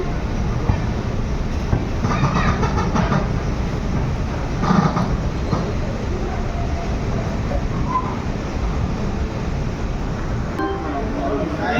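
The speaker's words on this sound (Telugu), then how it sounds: "బేతుల్ స్టేషన్లో 2 నిమిషాలు మాత్రం ట్రైన్ ఆగి వెంటనే బయలుదేరింది" Andaman Express train rolling on rails after a brief stop at Betul station, a steady loud rumble of wheels and carriage noise throughout with faint voices underneath.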